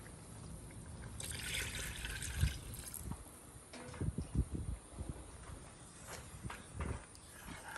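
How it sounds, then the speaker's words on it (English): Water poured into a pot of Cajun turtle sauce piquante made with Louisiana snapping turtle, heard as a close trickling, splashing pour with faint clinks and handling noises. "add just a little bit of water"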